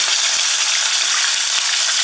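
Red snapper frying in a pan of oil, a steady dense hiss and crackle of sizzling heard up close and loud, with a few faint utensil taps and no talking.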